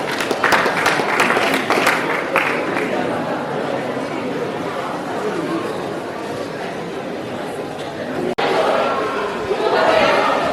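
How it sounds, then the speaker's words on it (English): An audience at a Nigerian college event applauds students of an environmental club, a steady wash of clapping and chatter with voices mixed in and a sharp knock partway through. "Let's clap for them again, please."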